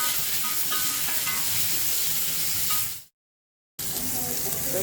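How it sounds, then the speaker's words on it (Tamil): Onion and tomato sautéing in oil for sambar, a dense close sizzle with light stirring scrapes, cut by a brief full silence before the frying resumes. "வெங்காயம் தக்காளி எல்லாத்தையும் எடுத்து போட்டு நல்லா வதக்கணும்."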